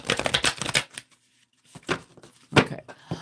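Numerology cards shuffled by hand during a live card reading, several quick papery riffling bursts separated by short pauses, close and fairly quiet with no voices.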